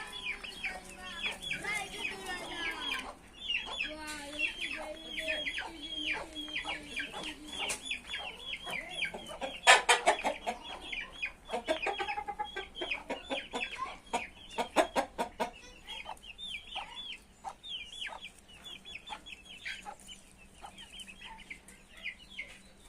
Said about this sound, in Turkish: Burada da bir tane cicili horoz var.